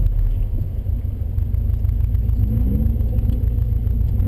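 Car driven around a coned driving-school training course, a steady low engine rumble and road noise continuing throughout, fairly loud and close with no talk.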